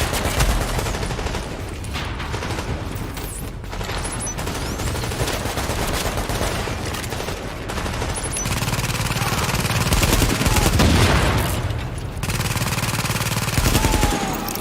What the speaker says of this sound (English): I'm deploying the turret. Keep shooting.